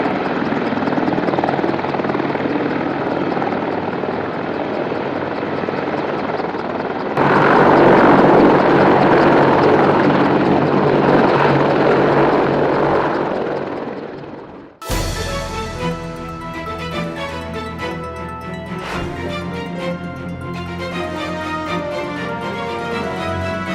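American military helicopters thump and whine loudly, first one steady rotor roar that swells and then cuts off abruptly, followed by a different close helicopter with rhythmic blade chopping and turbine whine.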